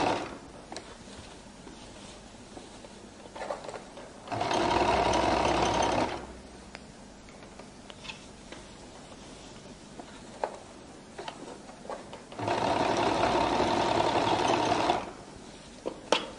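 A sewing machine top-stitches along a flared skirt's waistline edge in two sustained bursts of fast, even whirring, close and loud, with quiet handling noise and pauses between.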